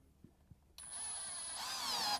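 A SKIL 12V/20V cordless drill driver drives a 3.5 inch deck screw with a close, steady motor whine that starts after a few faint clicks and climbs in pitch before cutting off.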